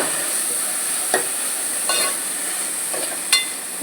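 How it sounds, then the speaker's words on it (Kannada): Carrots and beans frying in a pan for egg Maggi noodles, giving a steady high hiss with a few brief stirring scrapes, close and alone with no talk. "ಬೀನ್ಸ್ ಎಲ್ಲವನ್ನು ಸೇರಿಸಿ ಸ್ವಲ್ಪ ಹೊತ್ತು ಫ್ರೈ ಮಾಡಿ."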